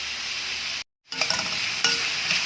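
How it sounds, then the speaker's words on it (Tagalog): Papaya and shrimp stir-fried in a pan, a steady loud sizzle with scraping stirring that cuts out for a moment and then resumes with sharper clatters of the utensil against the pan. No one speaks. "I-stir fry natin to mga idol. Ito yung luto nating papaya and shrimp stir fry."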